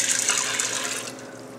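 Water pouring into an Instant Pot holding dry pasta, a steady close splashing rush that softens toward the end, about a second and a half with no talking.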